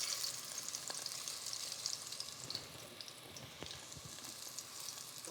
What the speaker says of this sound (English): While these plantains are cooking